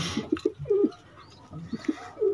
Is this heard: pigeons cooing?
yes